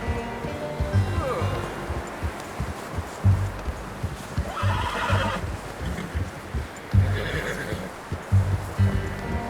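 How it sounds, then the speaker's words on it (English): Horse neighs and clip-clopping hooves in the Red Dead Redemption 2 video game, with two loud whinnies rising over steady hoof steps and ambient noise and a voice speaking. "I'm gonna hitch Taima over here."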